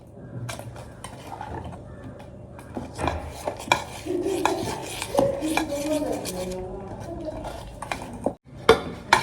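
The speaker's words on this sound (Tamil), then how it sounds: "தண்ணி கொஞ்சம் கொஞ்சமாக சேர்த்து கொஞ்சம் திக்காகவே வந்து கரைச்சிக்கலாம் ஃப்ரெண்ட்ஸ்" Spoon scraping and clinking against a bowl while thick batter is stirred with water added little by little, irregular knocks and swishes up close, with no talking.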